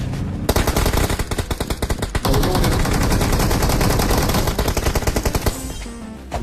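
Rapid automatic gunfire in the battle royale game BGMI, a loud dense stream of close shots that runs almost without pause after a short quiet start.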